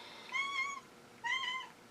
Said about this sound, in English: Crowley Cat is just telling me all about her life right now